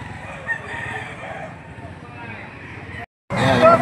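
A Butcher Roundhead rooster crows loudly amid the chatter and babble of a livestock auction market in Lipa, Batangas, with voices talking underneath before a brief silence and a renewed burst of noise.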